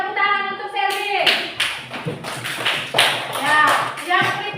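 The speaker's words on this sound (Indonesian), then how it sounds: "tepuk tangan untuk Selvi" A classroom of children clapping for a classmate, short uneven bursts of hand claps rising and falling, interleaved with a teacher's voice and children's chatter nearby.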